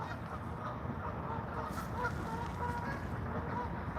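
Geese honk repeatedly at a distance by the Delaware River, faint calls rising over a steady broadband wash of outdoor noise and murmuring water.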